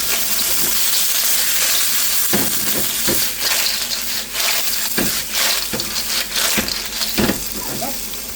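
Chicken pieces fry in a pan for a pipis dish, a loud close continuous sizzle broken by several clattering stirs and scrapes in the second half.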